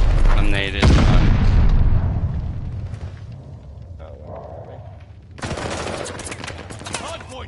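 A loud close grenade blast bursts in a first-person shooter game, followed by a long rumbling decay, scattered gunfire and a second burst of noise, with a voice briefly speaking over the battle.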